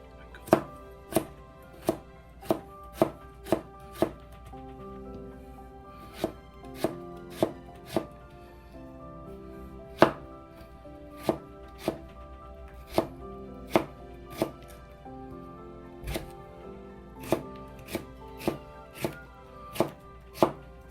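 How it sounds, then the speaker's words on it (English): A knife thinly slices potatoes on a cutting board in crisp, evenly spaced chops, with some quick runs and brief pauses between, close and clear with no talking. "Potato will be thin cut like this"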